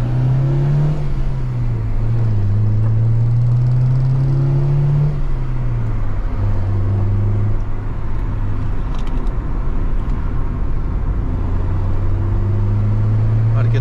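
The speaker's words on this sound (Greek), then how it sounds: "Πάμε να το κάνουμε μια οδήγηση, να δούμε πως πάει αυτό το μοτέρ." A Honda Civic with a 1600cc 160 PS engine driving on the road in Germany, a loud steady engine drone whose pitch rises and falls with gear changes, over road and wind noise, with someone talking intermittently.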